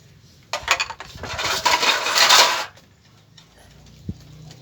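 Dishes, pots and pans being washed, heard as a brief burst of clattering and splashing for about two seconds that then falls quiet, with a single faint knock after.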